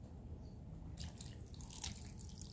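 A little water poured into a cooking pot: a faint, distant splash and trickle that starts after a quiet moment and runs for over a second, with no talking.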